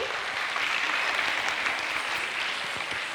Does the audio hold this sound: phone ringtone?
no